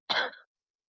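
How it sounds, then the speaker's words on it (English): A single short cough or throat clear, close and fairly soft, standing alone against silence. "You're coughing."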